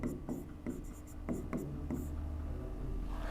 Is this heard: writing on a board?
yes